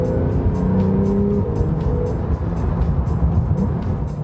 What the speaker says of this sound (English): There are 2 main gripes about the 911's noise.